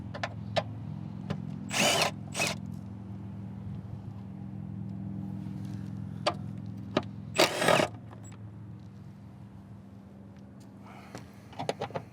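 A power tool whirs in a few short bursts while 10mm bolts come out of the rear skid plate under a Subaru BRZ, Scion FR-S, Toyota 86, with a steady low hum between bursts and occasional light clicks.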